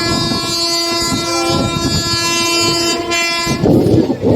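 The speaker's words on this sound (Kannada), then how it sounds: "ಟ್ರೈನ್ ಫೈನಲಿ 8 ನಿಮಿಷ ಡಿಲೇ ಆಗಿ ಅರಸೀಕೆರೆ ಜಂಕ್ಷನ್ಗೆ ಬಂದೈತ್ರಿ" A train rolls into Arsikere Junction station with a long, loud horn blast and rumbling wheels, the sound shifting near the end as it nears.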